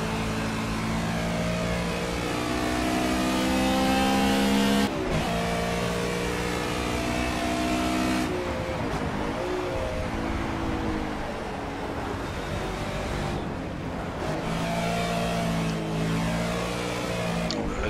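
A GT touring race car in Project CARS laps Silverstone, its engine revving hard and steadily with rising pitch sweeps through repeated gear changes, loud and continuous throughout.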